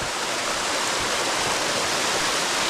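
A hidden waterfall roars with a loud, constant rush of falling water, dense and unbroken from start to finish, heard up close.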